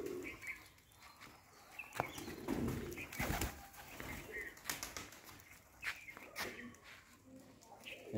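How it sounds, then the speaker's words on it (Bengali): Household pigeons at home in Araiul, Durgapur, Rajshahi, cooing softly and intermittently near by, with wing flutters and some chirps mixed in, and a voice talking now and then. "আমাদের বাসার কবুতর"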